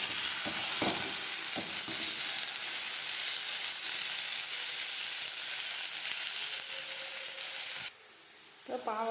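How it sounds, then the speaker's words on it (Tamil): Bitter gourd pieces fry in oil in a kadai, giving a steady, loud broadband sizzle with scraping stirs early on, until the sizzle abruptly drops away near the end and a few faint clinks follow. "கடாயில் எண்ணெய் ஊற்றியாச்சு. எண்ணெய் ஊற்றினதுக்கப்புறம் பாவக்காய் பொடி பண்ணதை இதில் போட்டாச்சு."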